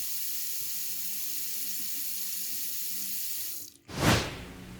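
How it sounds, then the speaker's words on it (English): Water runs steadily from a sink faucet during handwashing with soap, a constant hiss that briefly cuts out and then surges back louder near the end. "You're now washing your hands with soap and water"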